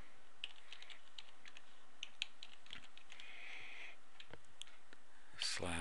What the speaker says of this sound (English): Type in our domain name, password protected